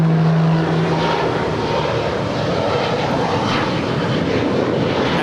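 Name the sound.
Aeromexico Boeing 787-8 Dreamliner jet arriving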